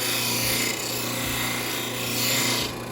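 A power sander works steadily on wood, pressed down onto a table, giving a continuous close rasping, rubbing whir with slight swells in intensity over a few seconds, no voices.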